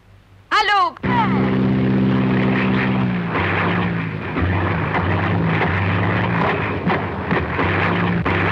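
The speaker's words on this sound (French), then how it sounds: "Hé, regardez cet avion!" A propeller airplane flies overhead in a 1950s film scene, its engine a steady, loud droning hum that swells after a brief high whistle and holds throughout, with voices speaking over it.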